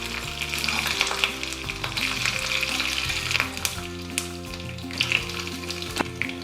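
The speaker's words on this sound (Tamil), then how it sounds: "கருவேப்பிலை கூட போட்டுக்கலாம். நல்லா தாளிச்சிக்கலாம்." Spices and curry leaves sizzle in hot oil while tempering for a Kerala-style beetroot pachadi: a steady, close crackling fry with scattered pops and a faint tonal hum underneath throughout.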